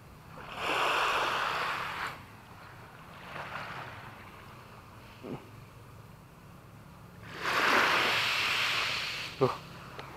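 Waves wash up on the beach at Kastela, Ternate, in soft swelling surges with quieter gaps between them, heard from close by under a steady low background hum.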